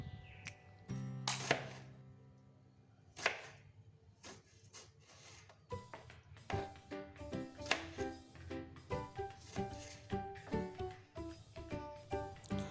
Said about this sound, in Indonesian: Aku potong-potong juga buah tomatnya.